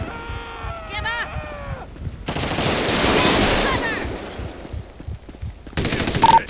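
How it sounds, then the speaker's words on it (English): Gunfire in Grand Theft Auto V with the LSPDFR police mod in Sandy Shores, Blaine County: a dense loud burst of shots in the middle, then a quick rapid volley near the end, with shouting voices and a siren-like tone earlier. "shots fired"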